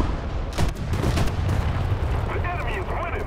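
Gunfire from an online shooter game crackles in several quick bursts, mixed with game noise, while voices talk over it.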